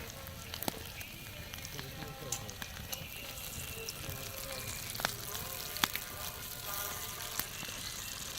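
Bacon fries in a pan over an outdoor cooking setup, giving a soft, steady sizzle of spitting fat with scattered small pops and crackles, fairly faint and continuous throughout.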